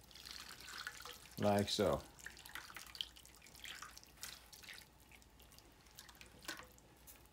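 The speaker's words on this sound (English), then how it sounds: "So we take our liquid. We pour it over our chicken breast." Braising liquid poured from a container over chicken breast in a pan, a short splashing pour of about half a second, followed by faint trickles while a person speaks briefly.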